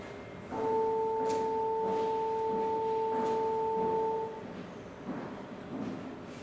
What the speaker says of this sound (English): More complex sounds can be made by combining sine waves.